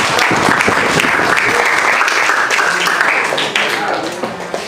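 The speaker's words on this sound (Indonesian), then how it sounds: "Berikan aplaus untuk mereka berdua" A classroom of children applauds two students, with loud, close clapping that gradually thins out over a few seconds. Voices come through under the clapping.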